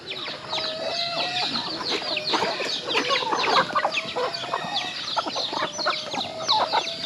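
Many chickens and turkeys cluck and gobble together on a Philippine farm, a dense, busy chorus of overlapping calls close by with no talk.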